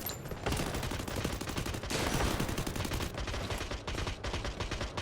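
MX8 gun in a video game fires in rapid sustained automatic bursts, dense rattling shots with brief pauses between strings, fairly quiet and without talk.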